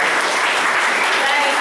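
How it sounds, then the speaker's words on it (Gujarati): A church congregation claps together in praise, a dense, steady patter of hands with voices mixed into the sound. "તાળી પાડીને પ્રભુ"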